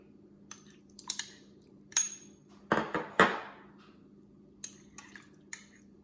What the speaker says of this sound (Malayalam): എന്നിട്ട് നന്നായിട്ടൊന്ന് മിക്സ് ചെയ്യാം